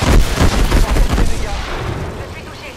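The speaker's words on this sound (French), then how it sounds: "Phase 3, j'envoie les missiles." Rapid missile launches in the Apex video game, a quick burst of punchy thumping blasts in the first second that taper into a fading rumbling tail.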